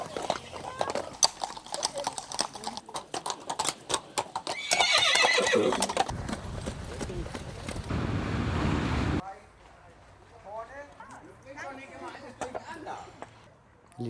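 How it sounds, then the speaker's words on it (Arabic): Horses pulling carriages across the exposed sea floor toward Neuwerk island in Germany, hooves clip-clopping steadily with a whinny, amid wind and surf, while people talk throughout. "حنروح لها بهيدي الأحصنة والعربات"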